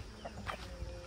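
Chickens cluck faintly in a straw-bedded chicken pen, with a few short soft clucks over a low steady background.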